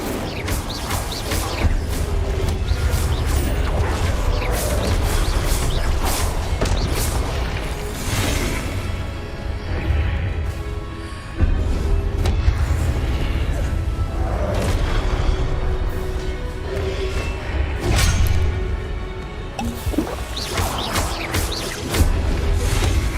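Fire spell cast in a Harry Potter video game: heavy, rumbling bursts and booms with a continuous roaring low end, loud and busy, swelling and cutting off over the stretch.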